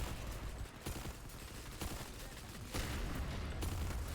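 Sharp bursts of rapid weapon fire in Planetside 2, several quick volleys with brief gaps between them, crackling and fairly close, with no talk.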